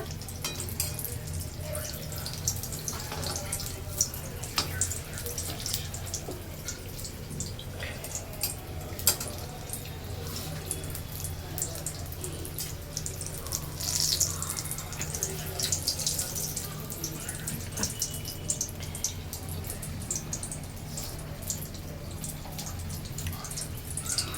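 Batter-coated banana flower fritters fry in hot oil with a steady, close crackle and sizzle that runs throughout, briefly growing busier near the middle, while a faint voice occasionally sounds in the background.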